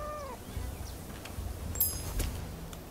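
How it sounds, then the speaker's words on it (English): A black and white cat in the game Rise of the Ronin gives a brief meow at the start, then faint scattered sounds over a low rumbling ambient background. "A black and white cat."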